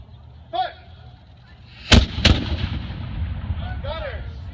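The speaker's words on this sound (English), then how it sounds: "we are going to hear one of the daily cannon fire" A historic cannon at Colonial Williamsburg, fired with a linstock at the magazine, booms loudly outdoors. A sharp report is followed closely by a second heavy blast, then a long rumbling echo, with faint whistles or voices before and after.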